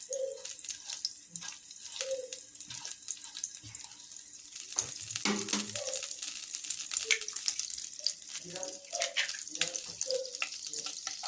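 Butter sizzling in a pan at the start of cooking fried rice, a steady soft hiss with scattered light crackles and a few clinks of a utensil throughout.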